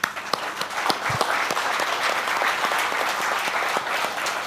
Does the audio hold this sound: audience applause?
yes